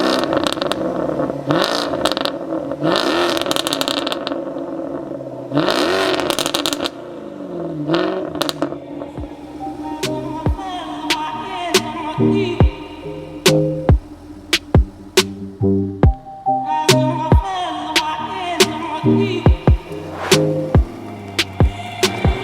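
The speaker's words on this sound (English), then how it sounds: "All right, Drew, should we jump out, take it for a spin?" A methanol-injected 700bhp supercharged Jaguar F-Type S revs and drives off, with rumbling engine swells early on and later a run of sharp crackles and pops over a lower drone.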